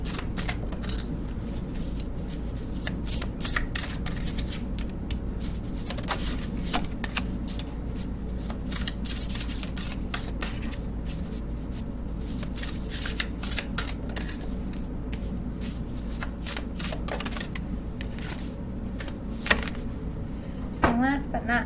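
Oracle cards shuffle in repeated crisp riffling and flicking bursts over about twenty seconds, with a person talking quietly through much of it.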